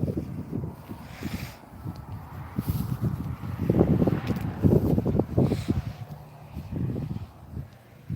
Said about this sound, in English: Let me get out of the wind then.